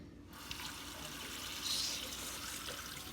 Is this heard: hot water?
yes